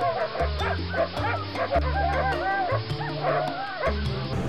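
Cartoon dogs bark, yip and whimper in quick succession, loud and close over a steady background music bed.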